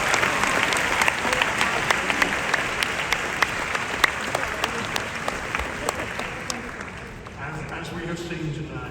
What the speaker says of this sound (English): Give her a big round of applause for that.